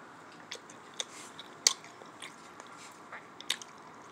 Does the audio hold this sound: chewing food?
yes